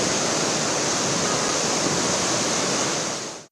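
Water gushes with heavy force from the opened gates of Mettur Dam, releasing 1,70,000 cubic feet per second: a loud, unbroken roaring wash that holds steady, then cuts off abruptly at the end.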